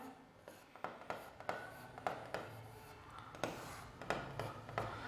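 Chalk or marker strokes on a classroom board as a teacher writes notes, a steady series of short scratchy taps and rubs at irregular intervals, fairly close and alone without talk.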